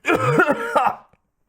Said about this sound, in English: A coughing fit overtook